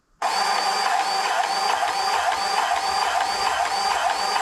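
A Snap-on cordless grease gun running, a steady motor whine with a fast pulsing rhythm that starts abruptly and holds constant, close and alone.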